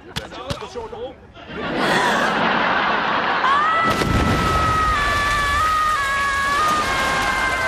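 A cartoon bomb explodes, with a sudden loud burst that swells into a sustained roaring blast and then rumbles on under a whistling ringing tone, after a few quick short sounds at the start.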